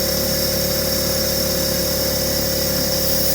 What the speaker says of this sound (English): The compressor will automatically turn back on when it needs to refill